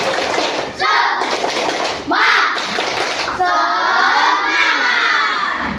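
A primary school classroom of children in Indonesia clapping, shouting and chanting together loudly in bursts, with overlapping voices and rhythmic rises, close and energetic.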